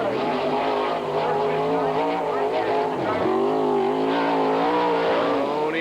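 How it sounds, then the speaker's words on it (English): A race car roaring around the oval track at Kokomo Speedway, a loud sustained engine drone that rises and dips in pitch through the turns, with an excited commentator talking over it throughout. "It's time to go racing at Ken Evans' wonderful Palace of Speed, Kokomo Speedway"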